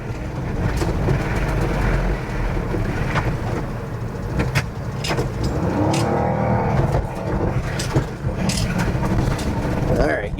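Pickup truck on the wrong tires labouring up a steep, heavy, slick snowy hill, its engine droning and straining steadily up close, with someone talking over the roar.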